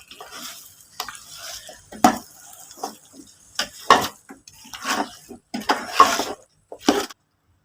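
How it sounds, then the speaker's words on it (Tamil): Chicken and sliced tomatoes being sautéed for Bangalore-style chicken biryani, a spoon scraping and clanking in the pan in irregular strokes over a soft sizzle, close by. "சிக்கனை நல்லா வதக்கிக்கலாம்."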